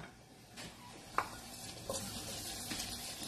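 Guanciale fries in a pan with a faint, soft sizzle, broken by a few light clicks and utensil taps.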